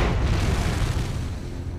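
Deep rumbling explosion effect for a solar eruption, a dense loud roar filling the whole short stretch and fading slightly, with no talk.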